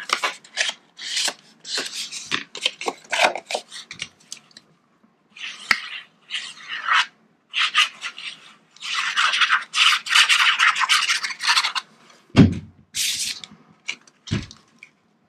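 Quick rubbing and dabbing strokes as an ink blending tool works ink onto paper edges, coming in short bursts with brief pauses and a couple of low thumps, close up and with no voices.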